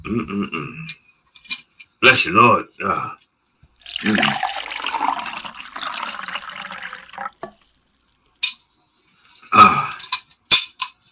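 A loud, drawn-out burp up close, bracketed by brief speech and a few short gurgling sounds.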